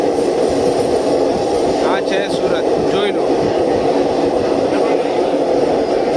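The Tirupati Express train rumbles loudly and steadily at Surat station, a dense continuous roar of rolling wagons close by, with someone speaking briefly over it.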